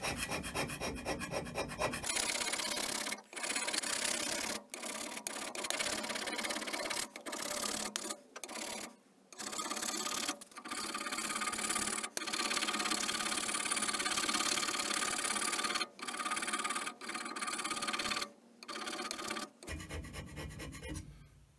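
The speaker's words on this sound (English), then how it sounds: "So I started out with my scraping going that way" Hand scraper rasping across a 12-inch cast iron straightedge, loud repeated scraping strokes with short gaps between passes, close and harsh.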